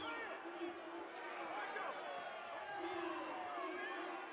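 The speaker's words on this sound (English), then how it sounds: "the crowd letting the refs hear this one" A basketball arena crowd at the Don Haskins Center, UTEP vs LA Tech, boos a referee's foul call: a steady, dense roar of disapproval that fills the arena while a commentator talks over it.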